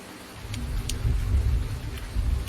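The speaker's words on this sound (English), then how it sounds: "Oh man, I love the sound of rain." Steady rain with low thunder rumbling in the logging video game Rogue River Logging, a continuous wash of rainfall over deep, swelling rumbles, with no voices.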